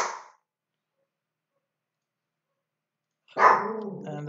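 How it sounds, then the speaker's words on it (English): A dog barks twice, one short bark at the start and another after a long silence near the end, close and fairly loud with nothing else around. "the dog's barking."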